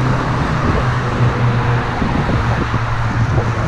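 Heavy road traffic roars steadily beside a river in Barnaul, a loud, continuous rumble of passing cars and engines with some wind buffeting, no voices over it.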